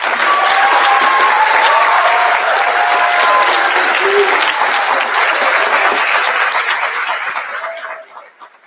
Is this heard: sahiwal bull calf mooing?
no